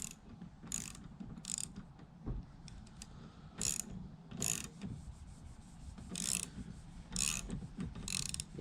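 Windscreen wiper arm being pulled off its spindle with a wiper arm puller, a series of short sharp ratcheting clicks in quick bursts, close and fairly faint, with no talking.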